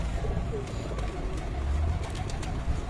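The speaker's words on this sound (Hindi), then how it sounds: "ये बड़े परफॉर्मेंस वाले बड़े कबूतर हैं" Large performance pigeons of the Ali Waly and Feroz Puri breeds give low, throaty coos close by, over a steady rumbling background.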